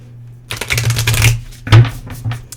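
Cards riffle and flutter in quick papery bursts, close to the listener, with a low steady hum underneath.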